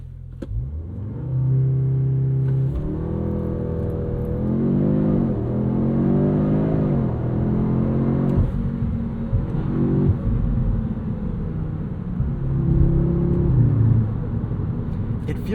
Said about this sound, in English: Let's try a quick launch before we get onto the highway.